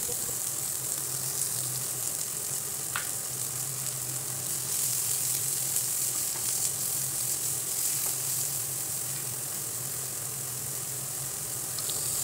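Sliced onions and green chillies fry in mustard oil, a steady close hiss of sizzling that holds evenly throughout with a faint low hum underneath and a few small clicks.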